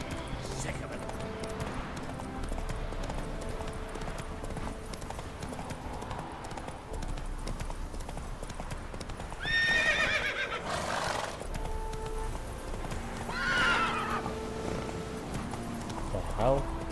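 A horse in the video game The Witcher 3 gallops with a steady clip-clop of hooves throughout, breaking into two sharp whinnying neighs midway, with quiet game ambience and occasional talk beneath.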